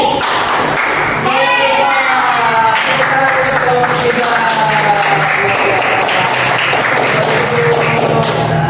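A classroom of children does a rhythmic thumbs clap in unison, loud and close, with a steady beat of claps mixed with children's voices chanting over it.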